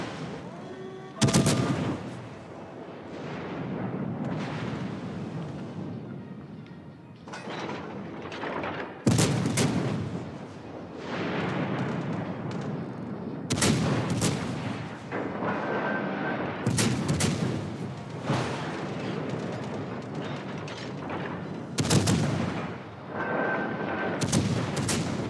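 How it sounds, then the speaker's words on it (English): Warship guns fire broadsides in a naval battle video game, a run of loud booming salvos a few seconds apart, each rolling off into a long rumble, with no talk. "So let's just get ourselves nice and broadside on. I mean, we might as well shoot."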